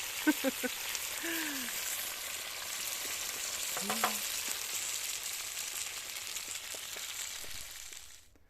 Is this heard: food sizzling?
yes